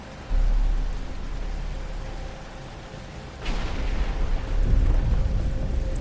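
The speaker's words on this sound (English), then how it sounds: "But it's starting to rain." Rain begins falling in Batman Arkham Asylum, a steady hiss of drops over a low rumble, swelling louder partway through with a sharp burst like distant thunder, no voices present.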